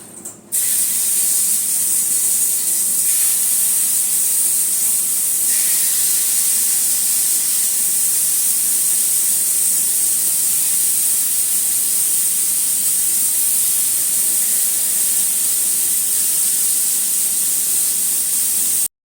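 Marinated chicken frying in hot oil on a tawa in a home kitchen, a loud, continuous bright sizzle that begins abruptly and holds steady throughout.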